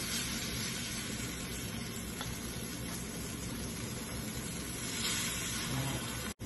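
Mushroom egg paniyaram frying on slow flame in a pan, a steady close sizzle with soft crackle that holds level throughout and cuts off sharply at the very end.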